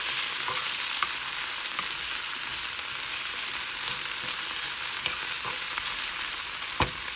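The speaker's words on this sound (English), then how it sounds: "I'm going to saute my onions and the garlic together." Onions and garlic sauté in a pan, giving a steady, close sizzle that runs the whole way through with a few faint stirring clicks and no talking.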